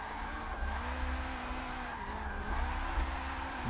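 Continuous tire squeal from a drifting car in the Forza racing video game, with a droning engine underneath and the screech wavering as the slide angle changes, loud and unbroken.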